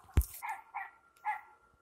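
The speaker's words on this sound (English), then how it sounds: "Shut up, dog." A dog barking outdoors near a shed, a few short separate barks at a moderate distance after a sharp thump, with no talk.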